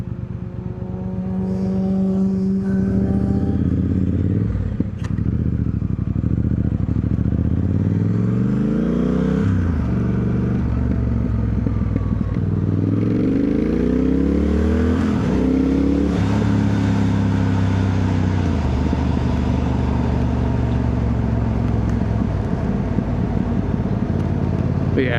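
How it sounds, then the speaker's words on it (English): A Triumph Speed Twin 1200 motorcycle engine and exhaust run loud and close, with a deep throbbing rumble that rises and falls through repeated revs and gear changes as the bike rides along, with occasional clatter and wind. "the exhaust, or just the engine sound in general on these things is lovely. Really nice sounding bike."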